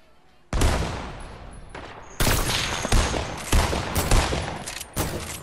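Loud close gunfire in Fortnite erupts after a quiet start, with a sustained burst followed by a string of sharp, repeated shots and blasts of varying spacing, with no talking.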